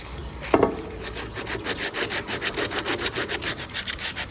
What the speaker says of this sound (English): I was going to sand it, but I'm going to give it a bit of a sand.